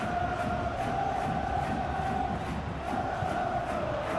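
A stadium crowd in the football video game PES 2021 roars in a dense, steady wash of cheering that stays even and loud throughout, with no commentary over it.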